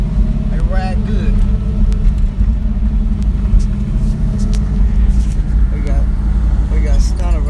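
A car called Dracula runs with a deep, loud, continuous engine rumble at a car show in SC, heard close up with people talking over it.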